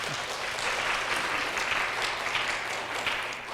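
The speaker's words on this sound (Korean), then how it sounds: "박수 한번 올려드릴까요?" Steady applause from a church congregation during a Sunday service, a dense wash of many hands clapping continuously throughout with no voices over it.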